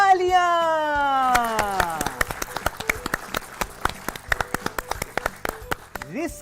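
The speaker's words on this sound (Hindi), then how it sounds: "तालियां।" Short burst of applause on a quiz-style educational show after a correct answer, brisk rhythmic clapping following a descending musical sting and running about four seconds before trailing off.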